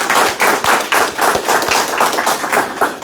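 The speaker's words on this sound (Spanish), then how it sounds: "Un aplauso a todos ustedes por las preguntas que han encomendado." Applause from the audience at an academic talk on Peruvian foreign policy, a few seconds of fairly loud, uneven clapping with dense overlapping claps and no talk.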